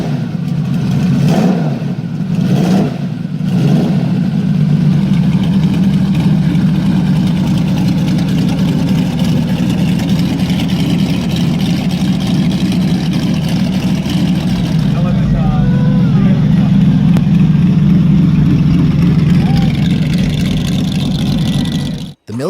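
A Chuck Beck–built motorcycle with a V12 engine and Volkswagen Type 3 transaxle runs steadily, its deep continuous engine drone loud and close throughout, briefly swelling as if revved, while a voice talks over it.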